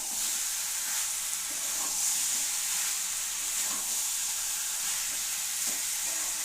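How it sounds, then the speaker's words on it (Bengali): Spice paste, made with dried red chillies, sizzles and hisses steadily in a hot pan, a loud, even frying sound that runs unbroken with no voices. "ভাজা ভাজা হয়ে যাচ্ছে মশলাটা"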